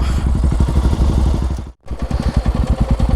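Motorcycle engines idle and rumble close by, steady and fairly loud, on a fog-covered bridge over flowing water during an early-morning ride between coffee estates, with a brief drop to near silence partway through before the engine noise resumes.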